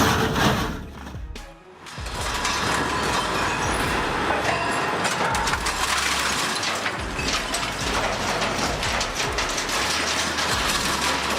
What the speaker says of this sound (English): This 28-ton beast, armed with a dual rotor system, delivers each cut with flawless accuracy